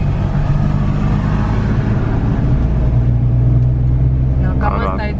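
Small car engine labouring in second gear on a winding road near Lefkada's Porto Katsiki, a steady close interior drone and rumble throughout, with no talk evident.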